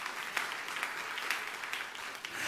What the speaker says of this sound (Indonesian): Yang sujud tepuk tangan yang meriah untuk kemuliaan nama Tuhan.